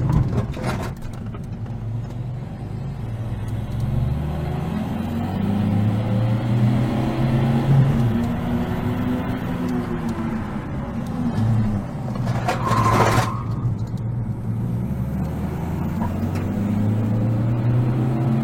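A diesel Peugeot 208 HDI rally-prepared car engine drones steadily from inside the cabin as it drives, rising and falling with acceleration, and a brief clatter partway through.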